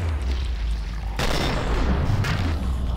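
Gunfire in the video game Killing Floor: dense, loud bursts of shots over a rumbling low background, with two sharp onsets about a second apart and no talk.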